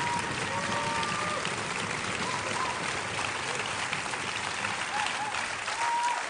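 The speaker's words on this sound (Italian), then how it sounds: "a me tanti applausi così non avete mica mai fatto" A live comedy show audience gives a long, dense, roaring applause, steady and loud throughout with faint voices mixed into the crowd noise.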